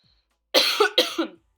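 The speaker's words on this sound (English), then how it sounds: "Oh, sorry, I have a cough." Two loud, close coughs in quick succession, then silence.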